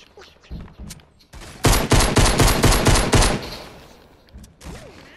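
Gunfire in the Fortnite video game, a pistol: a rapid, loud burst of repeated shots fired in quick succession, preceded and followed by softer game noises and faint thumps.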